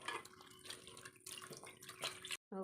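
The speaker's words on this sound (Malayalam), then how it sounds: "നമുക്ക് വെള്ളം കുറച്ചും കൂടി ഒഴിച്ചു കൊടുക്കാം" Water is poured into a pot of tamarind fish curry, a steady close splashing stream that runs without pause and cuts off abruptly near the end.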